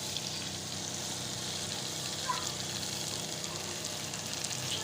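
Fried okra goes into a pan of masala and sizzles as a soft, even hiss with light stirring noises. The sound stays low and constant from start to finish.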